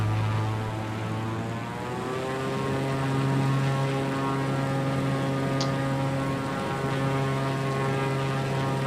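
Propeller airplane taking off in a flight simulator game, with a steady droning engine whose pitch climbs gradually as it accelerates, loud and continuous throughout with no talking.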